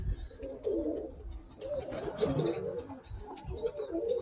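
Birmingham Roller pigeons coo repeatedly in a low, throaty murmur, several birds close by with steady overlapping calls and faint chirps above.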